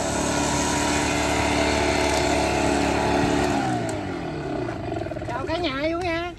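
A two-stroke petrol sprayer engine, used to broadcast rice seed in a paddy, roars loud and continuous close by, with a voice speaking over it near the end.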